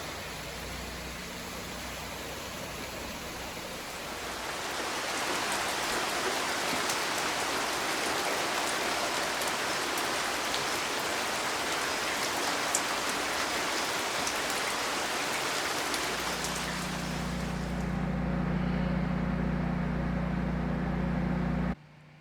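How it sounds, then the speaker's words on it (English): Heavy rain pours down during a 2023 California storm in the San Lorenzo Valley, a steady dense hiss that swells louder after the first few seconds, with a low hum joining near the end. "the rain has let up a little bit, which is great"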